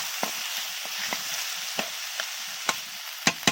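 Snail curry with a cup of water added being stirred in a pan, soft simmering hiss with a series of sharp utensil scrapes and taps, the last few louder, close with no voices.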